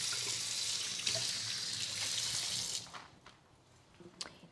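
Tap water runs steadily into a kitchen sink as cherry tomatoes are rinsed, a loud continuous splashing stream that stops partway through, leaving faint drips and small handling sounds.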